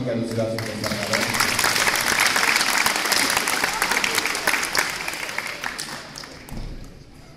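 Audience applause at an MMA school cage event, a dense spread of claps rising and holding for several seconds before thinning out, with voices and crowd noise mixed underneath.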